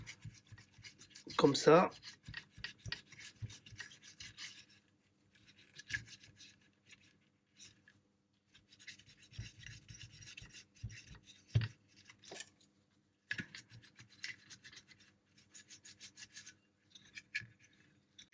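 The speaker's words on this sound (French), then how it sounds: "on prend encore une fois une lingette qu'on vient imbiber d'alcool isopropanol et on vient nettoyer l'emplacement des condensateurs" A Macintosh Classic power supply circuit board is wiped with an isopropyl alcohol wipe around the capacitor spots, giving intermittent soft rubbing and scraping strokes, close and quiet amid silences, with a brief spoken word.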